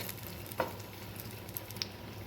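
Curry leaf chutney ingredients with jaggery sauté in a pan, a faint steady sizzle with a couple of soft clicks from a stirring utensil.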